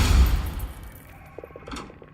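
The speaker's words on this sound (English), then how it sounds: "What kind of wimpy explosion was that? It's C4!" A C4 charge going off in Generation Zero, a short, muffled low boom that fades quickly into quieter game sounds and a few light clatters.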